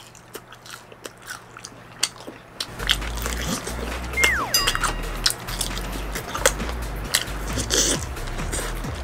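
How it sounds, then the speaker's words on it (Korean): Close, crunchy bites and chewing of sweet-spicy seasoned Golden Olive fried chicken, crackly crunches repeating over several seconds as someone eats. "화끈하게 양념 황금 올리브 먹어보도록 하겠습니다"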